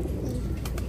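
Pigeons, a pair of kaasni kamaanger birds, give soft cooing calls over a steady low background, with a couple of brief brighter call bursts toward the end.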